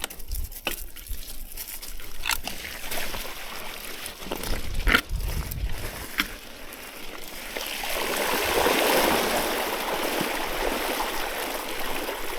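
Mountain bike tires get rinsed in a stream on a Utah trail, with scattered splashes and knocks at first, then a broader rush of flowing water that grows louder toward the end.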